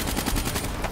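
Rapid automatic gunfire in Call of Duty: Black Ops 3, a dense loud burst of evenly spaced shots filling the whole moment.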